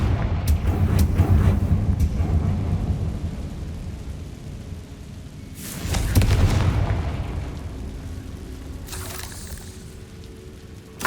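Deep booming blasts from a Confringo spell in Hogwarts Legacy: a rumbling explosion at the start, a second burst midway and a fainter crackle later, with no voices.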